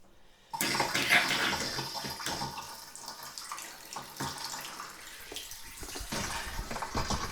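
Water runs from a tap into a newly fitted bathtub in a freshly finished bathroom, a steady broadband gush that starts abruptly and keeps pouring with small splashes and knocks, fairly close.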